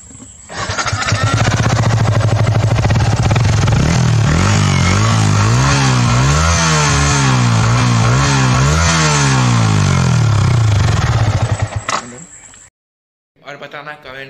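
A motorcycle engine revved hard and close, its pitch climbing and falling through repeated throttle blips at high volume before cutting off abruptly near the end.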